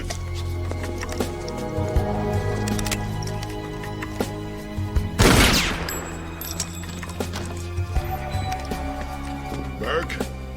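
A single loud gunshot bursts out midway through a tense exchange, cutting sharply through the surrounding talk, with voices continuing before and after it.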